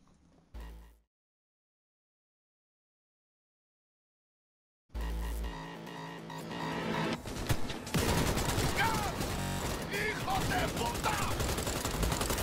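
Gunfire during a chaotic car chase in Cyberpunk 2077, starting after a silent gap and growing into sustained loud bursts of rapid shots mixed with engine noise and shouted voices.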